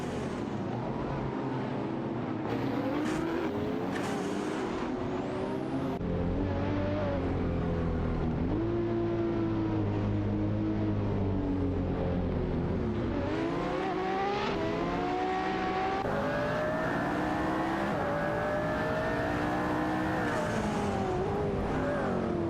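Race cars in an AI racing video game, including a Jaguar CX-75, produce continuous engine drone with rising and falling revs as cars accelerate and shift, loud and sustained without pause.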